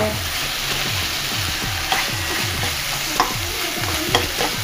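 Tomato frying in separated oil in a pan while being stirred with a spoon, a steady close sizzle broken by a regular rhythm of scraping strokes and occasional light clinks against the pan.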